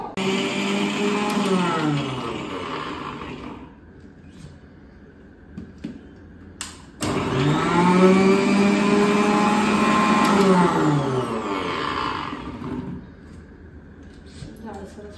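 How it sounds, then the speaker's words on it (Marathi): A kitchen mixer grinder crushing garlic and green chillies into a coarse paste whines loudly in two runs, slowing briefly to a pause between them. "असं जाडसरच हवंय का? हो. ओके, बघू शकता तुम्ही छानपैकी जाडसर असं आपण लसूण आणि हिरवी मिरची वाटून घेतलं आहे मिक्सरला"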